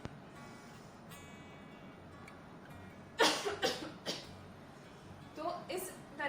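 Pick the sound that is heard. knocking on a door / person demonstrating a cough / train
person demonstrating a cough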